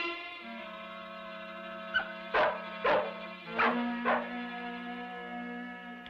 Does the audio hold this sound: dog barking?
yes